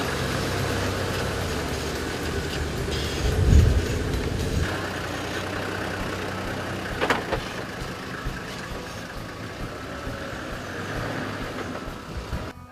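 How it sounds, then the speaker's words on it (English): A 4x4 engine brakes on a steep downhill off-road descent, holding a steady low drone throughout, with a dull thump early on and a brief sharp knock midway. "we want to keep the engine doing all the braking"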